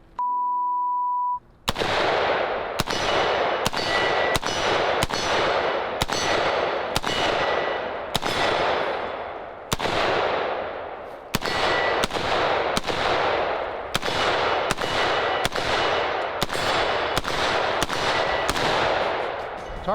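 A 6.8 SPC rifle fires about eighteen sharp shots in a steady string after a single electronic timer beep, each crack followed by a metallic ring, as from steel targets.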